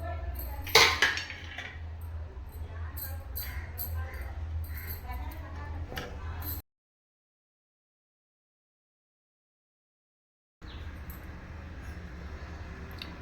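Metal spoon scraping and clinking against a pan while corn flour halwa with ghee is stirred, repeated sharp ticks and scrapes over a low hum, broken by a few seconds of silence.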